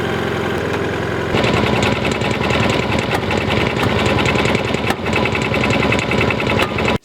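A small engine with a spark fault cranks and turns over slowly, making a loud, steady, rough mechanical churning up close that runs on for several seconds without catching and with no talking.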